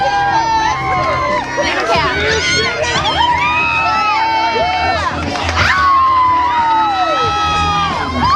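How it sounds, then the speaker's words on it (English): A loud, close crowd of wedding guests cheers, whoops and shouts with rising and falling voices, including children, in continuous excited noise. "Cheer him up. Make some noise for this guy."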